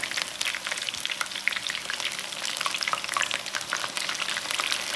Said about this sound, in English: I'm gonna try to get that batter cooked a bit before I let it down in one spot